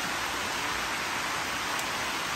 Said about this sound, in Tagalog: bagsak agad yung ulan, tuloy-tuloy hanggang ngayon